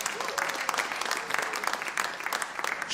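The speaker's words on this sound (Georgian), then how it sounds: "აპლოდისმენტები." An audience applauds steadily throughout at a Georgian university league contest, dense clapping at moderate volume with no talk over it.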